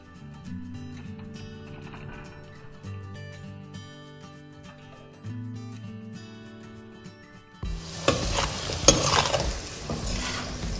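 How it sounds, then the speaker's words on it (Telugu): Drumsticks (munakkaya) tossed into a pan with frying onions and mutton, first quiet stirring with background music, then a sudden loud burst of sizzling and frying that continues steadily up close. "మునక్కాయలు వేసేసుకొని అవి ఫ్రై చేసుకుంటూ ఉడకనిద్దాం"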